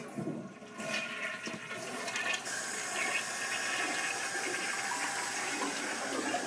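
A toilet flushes with a rushing gurgle of water that swells and then settles into a steady refilling hiss, fairly faint and heard alone.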